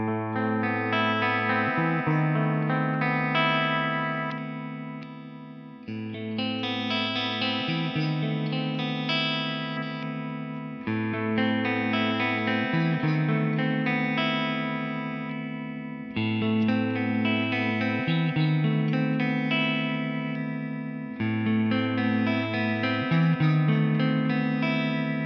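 A clean electric guitar with a strat-style tone, from a metal guitar under 500 euros with a Floyd Rose bridge, plays a repeating chord pattern, ringing and shimmering with a chorus-like effect and a little reverb.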